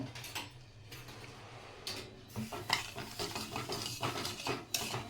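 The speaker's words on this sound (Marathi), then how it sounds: "आपण आपले याने हलवत राहायचं कारण साखर विरगळेल पटकन" A spoon clinks and scrapes against a hot kadhai while sugar and water are stirred into syrup, producing irregular metallic taps and scraping strokes at close range that grow busier toward the end.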